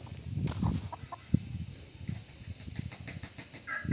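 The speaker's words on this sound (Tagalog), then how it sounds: "Ang cute ng manok" Chickens cluck along a roadside near Uraya's Peak, short scattered calls and low clucks over a faint hiss of outdoor background.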